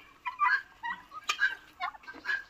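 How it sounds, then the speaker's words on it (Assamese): American Royal turkeys on a poultry farm gobble in quick, rattling bursts, several calls overlapping close by with short pauses between them. "এইখিনি হৈছে আমেৰিকান ৰয়েল টাৰ্কি বাৰ্ড বুলি কয়"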